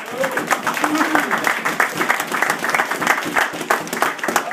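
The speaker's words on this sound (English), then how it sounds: "Everyone give this dude a round of applause." Clapping from a small workplace crowd cheering a colleague at a promotion celebration, uneven and choppy with individual claps standing out, mixed with chatter and voices throughout.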